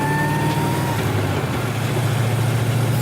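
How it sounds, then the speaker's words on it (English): LS-swapped Nissan 240SX driving in second gear, a steady close engine drone with a thin, high gear whine most noticeable early on. "Second gear has a little whine."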